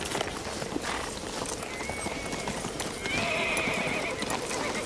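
Horses' hooves clip-clop at a steady gallop in a radio-drama effect, with a horse neighing briefly partway through; the rhythmic hoofbeats are continuous and fairly close, with no speech.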